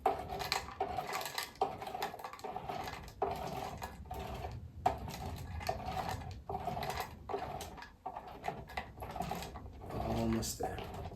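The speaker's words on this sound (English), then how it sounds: "I am gonna get the Kampala soap also chopped up into tiny little pieces." Kampala soap being chopped into tiny pieces with a knife, faint repeated tapping cuts against a board in an irregular rhythm, quiet and close, with a voice talking between cuts.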